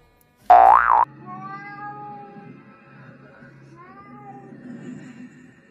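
A tiny kitten lets out one loud, sharp, rising-and-falling meow up close, followed by softer, thinner mewing and faint background noise.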